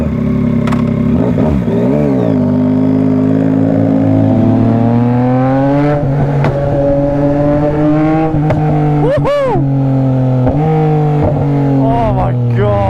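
Yamaha MT-09 SP motorcycle under way on the road, its engine loud and close, rising and falling through revs with gear changes, under wind noise and some exclamations from the rider.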